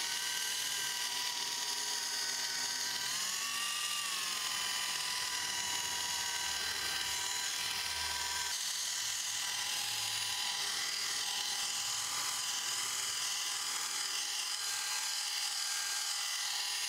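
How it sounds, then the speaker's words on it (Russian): A car polishing machine runs at low speed with Triumph Fast Cut Plus paste on a BMW, giving a continuous high-pitched whirring hum that stays steady and fairly faint throughout. "И приступаем к полировке на минимальных оборотах."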